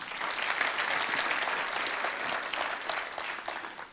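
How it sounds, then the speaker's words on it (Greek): Audience applauding Greek traditional musicians with wind instruments, lyra and laouto: continuous, fairly soft, even applause lasting the whole moment without a break. "θέλω να ακούω και ένα χειροκρότημα ταυτόχρονα"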